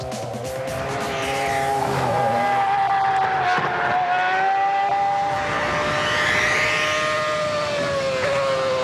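A Williams Toyota FW29 Formula One race car screams at high revs, its engine note rising and falling steadily through gear changes, loud and close throughout with no talking.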